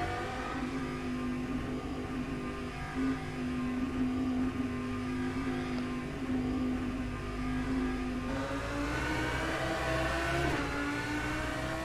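Audi R8 GT3 race car engine in rFactor 2 at Silverstone, a steady droning hum with a rising pitch near the end as it revs up, loud and continuous with no talk.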